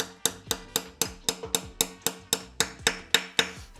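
A hammer taps a dowel pin for the oil filter adapter into a Jeep Cherokee XJ 4.0 engine block: about fourteen sharp, ringing metallic strikes in an even, quick rhythm, close and loud.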